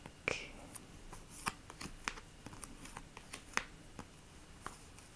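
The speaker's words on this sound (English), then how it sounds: "Let's take out some of these cards that I really like." Playing cards are handled and pulled from a stack, giving a series of crisp close-up slides, flicks and taps spread unevenly across the clip with no talking.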